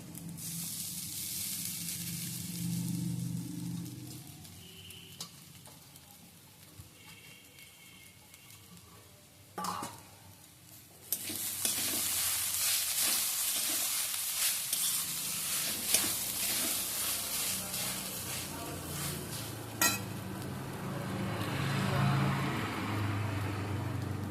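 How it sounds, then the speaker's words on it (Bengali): Soybean chunks sizzle and fry in a hot pan as a filling for momos, with a steady crackling hiss that swells after a brief clatter of stirring, continuing without talk. "এরপর দিয়ে দিচ্ছি সোয়াবিন"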